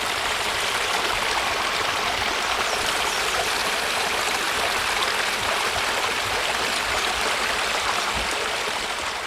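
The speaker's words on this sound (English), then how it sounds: "So in my case, like a babbling brook." A babbling brook recorded in the field: a steady, dense rush and trickle of running water, close and continuous with no voices.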